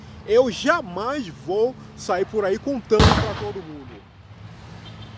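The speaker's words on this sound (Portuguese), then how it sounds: "Aconteceu uma explosão aí do lado, foi esse barulho que você ouviu." A nearby explosion lands as one sudden loud booming crack with a fading rumbling tail, cutting into a man's speech that stops just as it hits.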